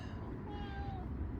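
A cat meows in a cramped garden bed during lettuce seedling planting, a soft drawn-out call riding over steady low background noise, fairly close.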